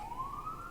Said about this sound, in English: I'm tired of hearing police sirens.